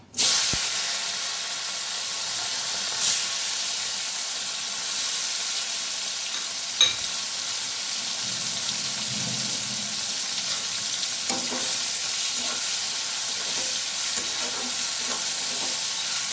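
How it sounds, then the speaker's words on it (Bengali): Salted, turmeric-rubbed dried fish frying in hot oil in a wok, a loud continuous sizzle and hiss throughout with occasional stirring knocks, no talking. "আমি শুটকি মাছগুলো সব ভেজে নেব।"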